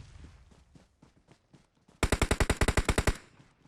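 Automatic gunfire from the mobile shooter PUBG Mobile on the Sanhook map: a sharp, loud burst of about a dozen rapid shots follows softer distant pops and faint game ambience.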